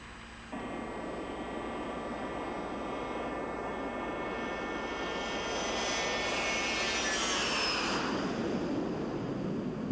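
A light airplane on a 4,000-kilometer mercy flight during the 1986 Paris-Dakar rally drones steadily, a constant engine roar with whining tones that swells slightly toward the end, heard alone without talk.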